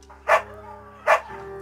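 Two sharp barks from Bucket, a beagle in the game Firewatch, with a steady quiet hum running underneath between them.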